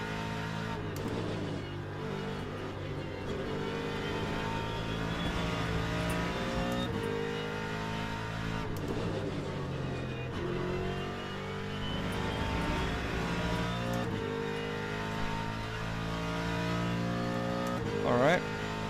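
Race car engines roar around Monza in the Le Mans Ultimate sim racing game, a steady high-revving drone with gear shifts and passing cars over nearly twenty seconds, heard under radio chatter.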